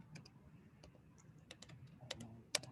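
Computer keyboard typing while tabbing through a DocuSign document, a sparse run of light close key clicks with one or two sharper presses, faint and alone in a quiet room.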